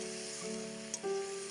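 Greens fry in a pan with garlic, salt, turmeric and green chili, giving a faint, steady sizzle with a low hum beneath and a slight stir partway through.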